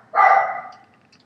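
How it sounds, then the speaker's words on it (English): One bark from a dog downstairs, a single sharp muffled yelp that fades quickly, heard from some distance in an otherwise quiet room. "My dog's screaming down there."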